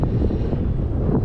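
A HobbyZone Carbon Cub S2 RC plane flies in strong wind, its small electric motor a steady whir buried under heavy, continuous microphone wind rumble.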